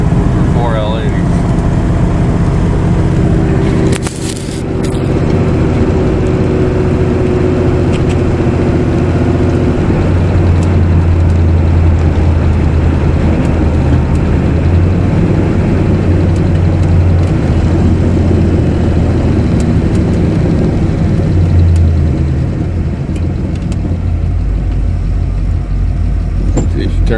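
A 1970 Chevrolet Impala with a 406 small-block V8 drones loudly and steadily during a torque-converter stall test on a 4L80 transmission, engine load rising with a low humming tone midway through.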